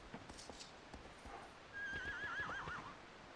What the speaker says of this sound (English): I ride into walls with my horse.